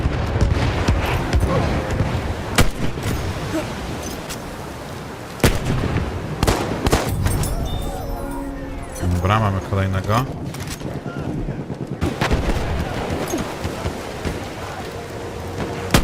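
Repeated heavy booming blasts of cannon fire in Battlefield 1 with crackling debris, loud and close, while someone talks briefly in between.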